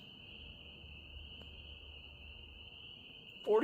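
Spring peeper frogs call at night as a steady, high, continuous chorus of trilling in the distance. A faint low rumble sits beneath it, and a short burst of louder noise comes at the very end.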